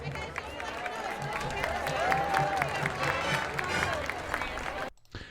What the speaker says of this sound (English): little polite applause there